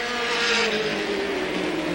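Race cars roar around an oval track at a 1985 Capital ARTGO heat race, a loud, steady, overlapping engine drone with shifting pitch as the pack runs close together, with no talking.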